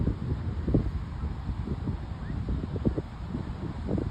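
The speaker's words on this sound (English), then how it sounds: "It's so windy." Steady wind buffeting the microphone with a low rumbling roar, gusting continuously throughout, no voices.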